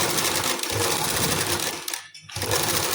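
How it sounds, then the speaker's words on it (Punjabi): Sewing machine stitching a finishing strip onto a garment, a close steady whirring run of rapid stitches with a brief pause near the end before it resumes. "ਐਦਾਂ ਸਲਾਈ ਲਗਾ ਰਹੇ ਹਾਂ"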